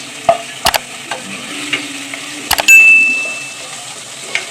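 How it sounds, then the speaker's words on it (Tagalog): Garlic and onion sauté in a pan Filipino style, giving a busy frying crackle with a few sharp clinks of a utensil against the pan and one short ringing tone. No one talks. "Filipino style sautéing."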